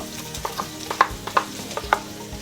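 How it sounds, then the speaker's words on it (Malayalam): Sliced onions go into hot oil with spices for a chicken curry, bringing a soft, steady sizzle marked by several sharp scraping stir strokes spaced close by. "അപ്പോൾ അതിൻ്റെ അകത്തേക്ക് നമുക്ക് സവാള ഇടാം അരിഞ്ഞു വെച്ചേക്കുന്ന സവാള"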